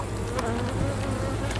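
Honey bees buzzing in a steady, dense drone close by while a hive is opened and inspected in November, the hum continuous and even throughout.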